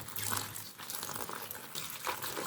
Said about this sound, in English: I add in water to my oha leaf so that I can wash it